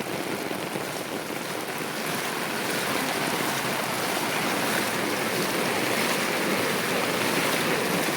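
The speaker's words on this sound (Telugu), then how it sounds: "ఇక్కడ కల్వర్ట్ ఎక్కి బయటకు వస్తున్నాయండి వాటర్ అంతా" Steady broadband rush of floodwater pouring over a culvert after heavy rain, loud and continuous with no pauses, no voices.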